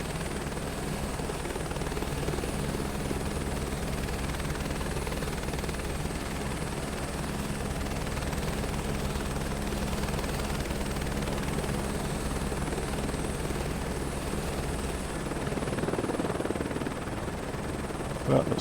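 Steady, close helicopter rotor and engine drone heard from inside the cabin on a scenic flight over the Lahaul and Spiti valley, a constant loud whirring hum with no break throughout.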